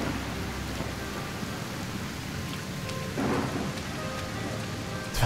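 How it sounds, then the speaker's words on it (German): Steady rain falls throughout in the video game Sengoku Dynasty, a dense, continuous patter of drops on surfaces with a faint low rumble underneath and no talking. "Allgemein regnet es, finde ich, viel."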